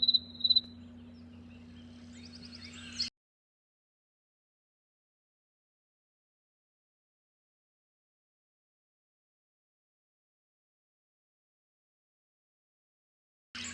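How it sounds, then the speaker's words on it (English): Recorded crickets from a sound machine chirp in a steady, faint trill over a low hum for about three seconds, then cut to silence before briefly resuming at the end. "And then we have all kinds of nature. Crickets."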